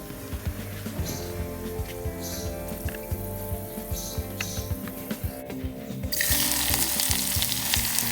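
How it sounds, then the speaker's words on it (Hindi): Bay leaf and cinnamon frying in hot oil in a heavy-bottomed pot, a continuous close sizzle with small crackles, swelling to a louder, brighter hiss toward the end. "ऑयल गरम हो गया है, इसमें तेज़पत्ता और दालचीनी ऐड कर देते हैं।"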